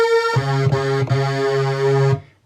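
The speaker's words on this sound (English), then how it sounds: "And that is your classic 1990s trance." A bright, buzzy trance lead from a Korg Minilogue XD with stereo chorus plays a short phrase of several sustained notes, loud and alone, ending with a brief fade.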